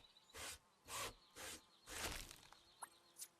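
Wood being sawn in the Ranger's Path national park simulator game: four rhythmic rasping saw strokes, evenly spaced and close, followed by a few small clicks and chirps, with no talking.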